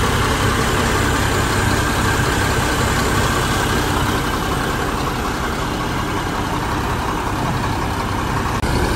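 Mercedes 1626 bus engine running in its engine compartment, a loud, steady diesel rumble with broad mechanical noise that holds constant throughout, no voices over it.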